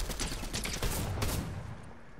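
Bursts of video game gunfire crackle and boom loudly for a couple of seconds during a chaotic multiplayer firefight, with no talking.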